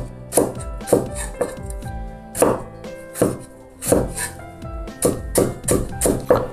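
A knife chops a small piece of ginger on a cutting board in a kitchen, giving a run of crisp, close, fairly regular thuds with short pauses between bursts.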